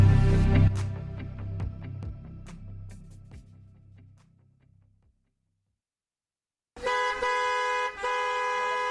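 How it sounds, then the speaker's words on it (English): Evening rush-hour traffic with car horns: a burst of honks and clattering that fades into silence, then a loud sustained horn blast rings out near the end. "What a busy traffic on this Friday evening."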